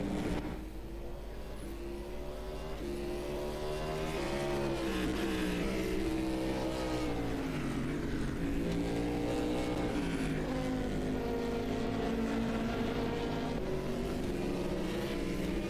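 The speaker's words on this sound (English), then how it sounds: "Great to see so many of these cars out on track." Race cars run on track during official practice for the GTR24H 2022 EEWC round at Matsusaka, with engines droning continuously and pitch rising and falling as cars accelerate and pass, steady and moderately distant with no talking.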